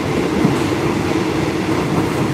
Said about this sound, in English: I like riding on the train.